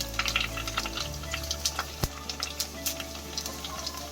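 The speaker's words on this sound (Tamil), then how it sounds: "ஆயில் நல்லா சூடாக இருந்ததும் டக்குன்னு என்ன ஆகிடும்னா நமக்கு பொரிஞ்சு மேலே வந்துடும்" Pani puri dough rounds fry in hot oil, a steady bubbling sizzle dotted with quick pops and crackles, close and moderately loud with no talking.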